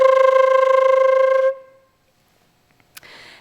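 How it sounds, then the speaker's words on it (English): Flutter tonguing on a wind instrument: a single held note with a rapid rolling flutter through it, lasting about a second and a half before cutting off. "flutter tonguing, which also very creatively named, involves rolling the tongue and playing a note at the same time."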